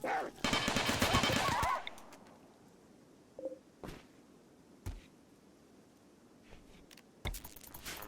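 Turret gunfire in the video game RimWorld comes as a dense, loud rattling burst at the start, then fades to a few isolated sharp clicks and thumps over a quiet background.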